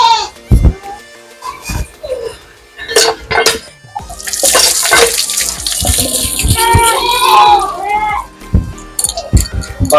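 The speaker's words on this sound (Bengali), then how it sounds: "এটা এবার কলতলায় ধুয়ে নেব" Tap water splashing and running at an outdoor washing spot while pomelos are rinsed, in irregular gushes and spatters close by, with a person talking over parts of it.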